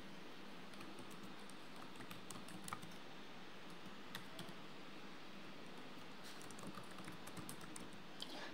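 Soft, quiet typing on a computer keyboard as email addresses are entered, a fast, uneven patter of light key clicks over faint background hiss, with no voices.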